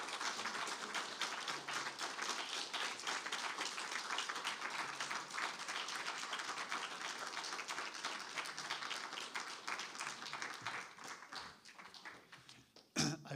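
A faculty presentation audience applauds Mike Curato with a long, dense wash of clapping that stays fairly distant and soft, then thins out and fades near the end.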